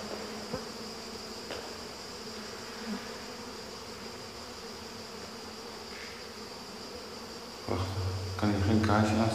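Many bees or wasps buzz in a steady, continuous drone outdoors, moderately quiet throughout, and a voice begins talking near the end.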